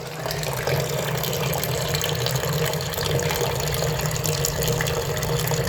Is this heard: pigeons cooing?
no